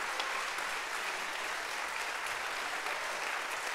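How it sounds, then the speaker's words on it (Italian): An audience at a band concert for the feast of San Bartolomeo gives a sustained round of applause, a thick, even roar of many clapping hands that holds at a steady, fairly loud level throughout. "gli farei un applauso proprio per il lavoro che sta svolgendo"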